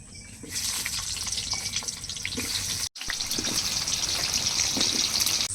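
Water at a rolling boil in a pot for khichuri, a continuous bubbling hiss close by with a brief cutoff midway, no talk.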